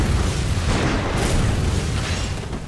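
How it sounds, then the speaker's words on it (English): Enemy gunfire in the Bloodborne video game, a dense, continuous roar of booming blasts and bursts that fills the whole stretch at a steady loud level, with no voices over it. "Stop shooting."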